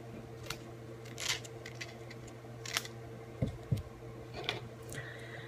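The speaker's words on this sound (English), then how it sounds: "I'm going to take the eye and I'm going to cut out the shape of the eye." Scissors cutting an eye shape out of felt for a preemie Minion hat, heard as a few faint, sparse snips and clicks spread over a quiet background.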